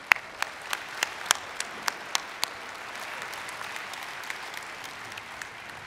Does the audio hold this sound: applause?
yes